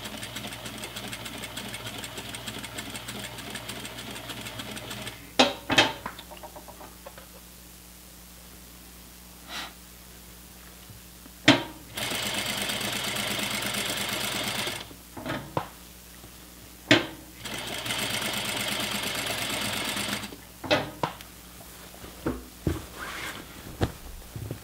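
An industrial sewing machine hems a pair of pants, running in several sustained bursts of rapid whirring stitching separated by pauses with small clicks and handling noises.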